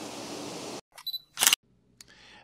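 A camera shutter fires during a long 0.8-second exposure, taken with a 14-30 mm lens at 25 mm, f/11 and a circular polarizer beside a waterfall. Sharp clicks come close together, separate from steady rushing water that cuts off beforehand.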